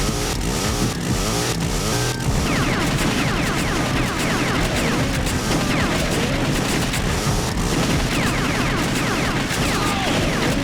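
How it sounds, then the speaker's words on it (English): Rapid arcade light-gun fire in The House of the Dead 2, many shots crackling over a dense, busy game soundtrack with engine-like rumble and scattered booms throughout. "Alright, so I gotta shoot him in the head."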